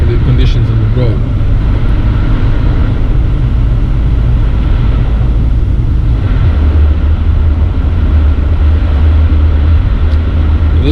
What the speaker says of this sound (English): This noise you can hear, it's the snow and the water next to the tires making noise.